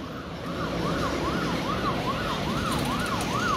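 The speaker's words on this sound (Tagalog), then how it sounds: "Ayan, may wangwang." An emergency vehicle siren wails on a street, its rising and falling tone repeating steadily about twice a second over traffic rumble, moderately distant and continuous.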